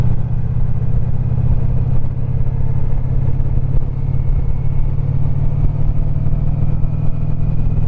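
A motorcycle engine drones steadily in a low gear through the hairpin turns of the Tail of the Dragon road, a close, continuous hum with no break, loud and unbroken by talk.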